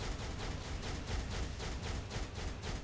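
Skill explosions from Marvel Future Fight rumble in a rapid, regular series of soft bursts, a continuous rattling barrage at low volume.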